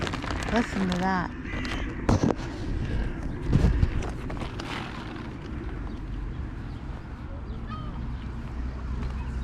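Outdoor birds calling at a feeding spot, several honking and squawking calls early on, clustered in the first few seconds over constant background noise, with people talking nearby.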